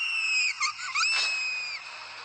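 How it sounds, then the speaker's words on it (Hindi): A loud, shrill scream in a horror story rises and wavers at a high pitch for about two seconds, then trails off. It stands alone, with no talk over it. "तभी एक जोर से चीखने की आवाज आई।"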